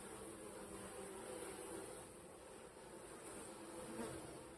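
Honeybees buzzing around an open beehive during an inspection, a dense, steady hum of many insects close by, continuous and even with no talking.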